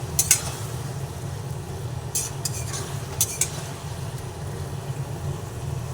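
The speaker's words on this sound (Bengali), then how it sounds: "সেই বেগুনগুলোকে এর মধ্যে এক এক করে দিয়ে দেবো রেখে দিয়ে দিলাম এরপরে ভালোভাবে একসঙ্গে সব দিয়ে কষিয়ে নিচ্ছি" Eggplant pieces frying in a pan, with a steady low sizzle under intermittent metallic scrapes and clinks as a spoon stirs them, close and fairly loud.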